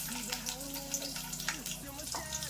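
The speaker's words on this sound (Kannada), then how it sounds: "ಕಟ್ ಮಾಡಿ ಇಟ್ಕೊಂಡಿರೋ ಬೆಳ್ಳುಳ್ಳಿ ಹಾಕೊಂತಾ ಇದೀನಿ ಸ್ವಲ್ಪ" Chopped garlic dropped into hot oil in a pan, giving a steady close sizzle and crackle with a voice talking over it.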